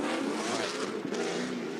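A BMW drift car on the track at a Formula DRIFT Atlanta Pro-Spec event, engine roaring loud and continuous with a brief dip, heard from trackside with crowd and venue noise behind.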